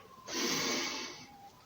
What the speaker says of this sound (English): We're breathing in.